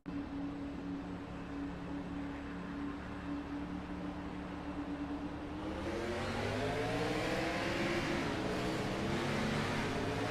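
An onboard race car engine at Rockingham idles with a steady low hum, then revs hard and climbs through rising pitch sweeps as the car launches at the race start, loud and close with wind noise.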